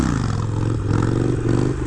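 A Harley Davidson motorcycle revs hard and loud through a wheelie, its engine drone steady and close for the whole short stretch, with a faint clattering scrape riding on top and no talking.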